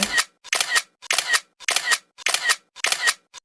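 A camera fires a quick series of six shutter clicks at an even half-second rhythm inside a clothing shop, each a crisp close mechanical snap with short gaps of silence between.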